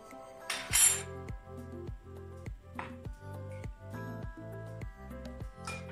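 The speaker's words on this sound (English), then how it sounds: "We're now gonna beat the eggs." Eggs beaten in a bowl for a carrot cake batter, a utensil striking the bowl in a steady run of quick, clinking strokes, close and fairly loud, with no talk.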